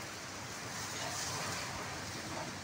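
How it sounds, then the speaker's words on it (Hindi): Heavy pouring rain makes a dense, even roar that holds steady throughout, fairly faint in level and with no voices present. "धुएंधार बारिश है"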